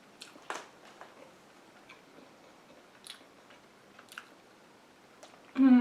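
Someone chews a bite of warm, freshly made cinnamon cake, producing soft, scattered mouth clicks and light crunches close to the mic over about six seconds, ending with a louder burst.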